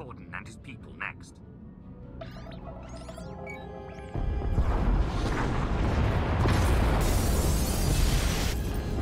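Escape pod bays blown apart in Star Wars: The Old Republic, a sudden heavy boom that swells into a sustained roaring, crackling rumble after a few seconds of dialogue-like voices and faint effects.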